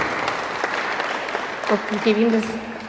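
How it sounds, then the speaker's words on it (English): Applause from a crowd at a youth cricket tournament media launch as a speaker comes up to the stage, steady clapping with a voice speaking over the end. "So please give him a round of applause, guys."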